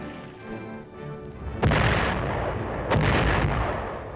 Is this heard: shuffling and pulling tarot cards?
no